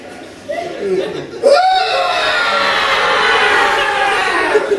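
A comedy show audience at the Leicester Comedy Festival breaks into a loud, sustained group scream on cue, right after a short spoken line from the performer.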